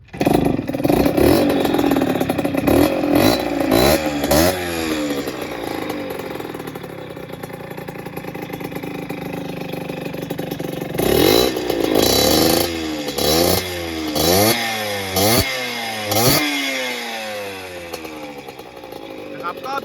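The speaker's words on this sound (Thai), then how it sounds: "อ่ะดับปุ๊บเดี๋ยวลองสตาร์ทใหม่อีกทีหนึ่งนะครับ" A Yamaha DT100X two-stroke trail motorcycle with a converted CDI ignition cranks, starts and idles with rough, rapid putter, revving a few times, close by and loud throughout.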